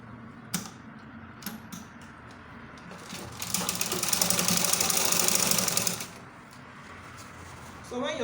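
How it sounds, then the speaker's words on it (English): A sewing machine stitches a half-inch seam joining a skirt's lining around the waist, a steady mechanical whirr that swells for about three seconds mid-clip between softer clicks and handling noises. "And just sew it 1/2 inch."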